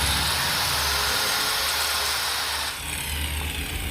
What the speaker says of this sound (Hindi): यहाँ से अब मैं ग्राइंडर आपको चला के चेक करवाता हूँ